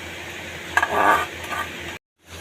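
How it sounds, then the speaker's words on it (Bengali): Soybean paste being stirred into a hot pan, a gentle scraping and sizzling that swells for about a second, keeps up steadily, then cuts off abruptly before faint frying returns. "এবার সোয়াবিন বাটাটা আমি দিয়ে দিচ্ছি সোয়াবিন যে পেস্ট করে রেখেছি ওটা দিয়ে দিচ্ছি"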